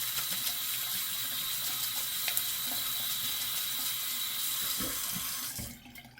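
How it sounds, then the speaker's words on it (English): Shaving brush rinsed under a steady stream of running tap water, a continuous near splash and trickle that fills nearly the whole stretch before abruptly cutting off at the end. "Just rinse the brush off a little bit."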